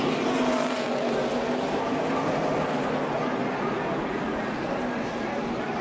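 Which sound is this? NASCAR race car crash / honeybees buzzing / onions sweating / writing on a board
NASCAR race car crash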